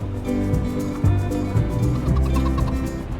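Chickens in the Farming Simulator 25 video game cluck and gobble steadily in a dense, close flock chorus, with repeated fowl calls throughout and no talking.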